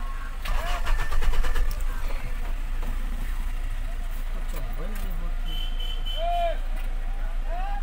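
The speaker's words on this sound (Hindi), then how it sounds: "अब गाड़ी स्टार्ट करके देखेंगे और थोड़ा सा रनिंग करेंगे।" A Mahindra Scorpio S2 engine, carrying fault code P2264 and a pickup problem, cranks and catches, then settles into a steady idle hum with beeps and people talking over it.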